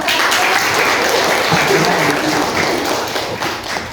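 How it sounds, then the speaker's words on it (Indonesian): Classroom audience applauding a student group after their presentation, a dense, loud, continuous wash of clapping from many hands that holds steady for several seconds, with voices mixed in. "beri aplaus untuk kelompok 1"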